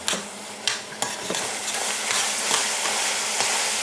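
Close sizzling of Bolognese sauce fills the background with a crackling hiss, punctuated by a few sharp scrapes of a utensil stirring in the pan.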